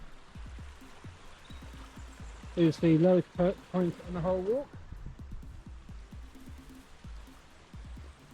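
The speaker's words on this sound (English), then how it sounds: "We watch the stream bubbling away." Stream bubbling and trickling beside a walking path in the Lake District, a steady close water rush that runs continuously while someone speaks over it.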